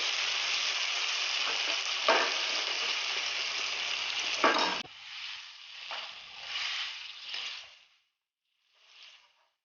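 A loud, steady sizzle of onion-garlic paste frying in a hot pan for gravy, then softer stirring scrapes as the sizzle fades to near silence.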